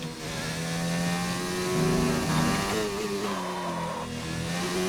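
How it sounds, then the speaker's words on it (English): Formula 1 car engine in a racing video game, a loud, sustained high-revving whine with rising and falling pitch as the car accelerates and shifts, heard alone without talk. "that engine's loud"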